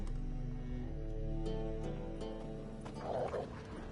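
Dogs growl and snarl in The Witcher 3, a low rumbling animal growl with a harsher burst near the end, moderately loud and close against a steady game backdrop.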